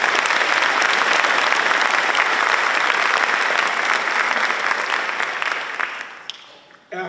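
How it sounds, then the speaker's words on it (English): An audience at a high school athletics centennial celebration breaks into loud, sustained applause, a dense wash of clapping that holds steady and then tapers off near the end. "So let's give them all another round of applause."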